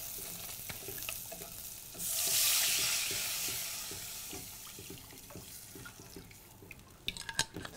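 Stock is poured into a hot pan with browned spring onions, bursting into a loud sizzle that gradually fades, with light stirring and utensil clicks around it.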